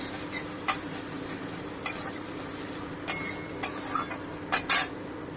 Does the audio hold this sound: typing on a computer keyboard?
no